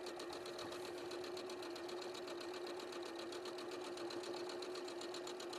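A sewing machine stitches fabric seams with a fast, even mechanical whirr and rapid needle rhythm, steady and uninterrupted, fairly quiet and alone.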